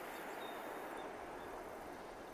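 An ambience track gives a faint, steady broadband hiss like distant rushing water or wind, unchanging throughout with no distinct events or voices.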